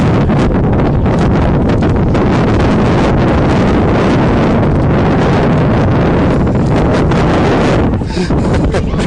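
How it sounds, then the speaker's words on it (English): Strong wind buffeting and howling into the microphone at a high school football game, loud, continuous rumbling roar that drowns out everything else. "I'm doing my best to try to mitigate the wind, but it is just howling"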